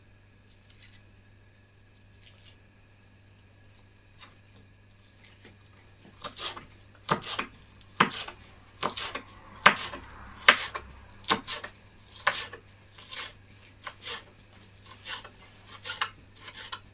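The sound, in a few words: chopping onions with a knife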